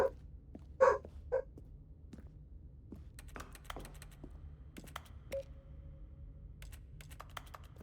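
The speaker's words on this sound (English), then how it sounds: "I was just clicking, just listening to the clicks of the keyboard." A computer keyboard clicks in scattered bursts and single taps while a game is played, close and fairly quiet, with a few louder thumps near the start.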